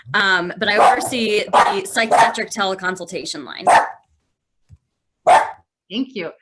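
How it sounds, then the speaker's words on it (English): A pet dog barks in the background at home during a video meeting, a few short barks heard after a person finishes talking and between their brief words. "And that's my dog barking."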